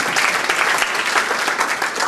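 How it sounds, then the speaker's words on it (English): An audience applauds at a meeting where officers are being recognized: dense, steady clapping that holds at an even level for the whole stretch. "I don't think she's here, but she really deserves applause."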